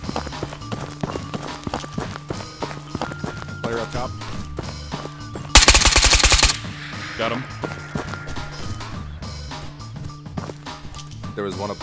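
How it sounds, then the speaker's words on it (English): Gunfire in a video game on Island of Tabor, with repeated shots and a loud sustained burst of rapid fire midway, mixed with running footsteps and voices talking throughout. "Aside from, you know, the gunshots."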